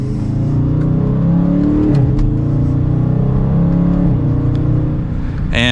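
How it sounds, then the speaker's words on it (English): A 2021 Dodge Charger 392 Scat Pack V8 accelerating from inside the cabin, a loud, steady engine drone that rises in pitch with brief dips at gear shifts, continuous and close. "We're gonna give it a little bit of gas here."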